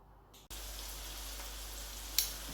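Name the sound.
onions frying in vegetable oil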